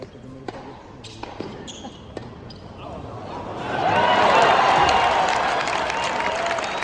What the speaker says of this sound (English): And now people are like, we like Rublev better. Take a listen. That's a louder chant.